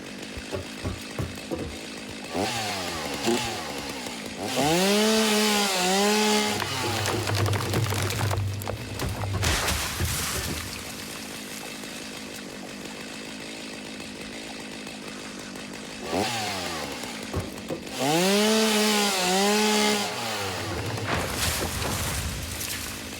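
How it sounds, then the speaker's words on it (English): In the video game Satisfactory, a chainsaw cuts logs in a rainforest, loud and close with no voices. Two main bursts of rising and falling engine whine are separated by lower idling and rumbling in between. "What does area mode for the chainsaw mean?"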